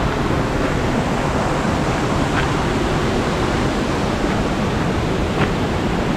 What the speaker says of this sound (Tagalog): May falls dito guys oh.